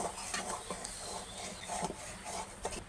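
Chocolate cake batter being mixed in a bowl, faint soft stirring with repeated light scrapes and taps of a utensil, close and quiet, without talking.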